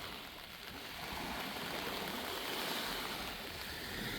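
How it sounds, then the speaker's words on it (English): Rain falls steadily on a Lake Michigan beach, a dense, even hiss with a soft watery wash beneath it and no voices. "It's a rainy day."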